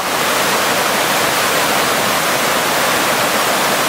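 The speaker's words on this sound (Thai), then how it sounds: "เจ่ว่าน้ำก็ยังมาอย่างต่อเนื่องแต่ก็ไม่สูงเท่ากับครั้งก่อน" A rainy-season waterfall on the Mekong pours in a loud, constant, dense roar of rushing water with no breaks, close and enveloping.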